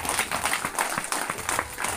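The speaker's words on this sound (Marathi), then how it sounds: "आपण एकदा टाळ्या वाजवून जोरदार" Audience clapping at a machine inauguration during an Adivasi Asmita Day gathering, a steady burst of applause from a crowd that carries across the whole moment.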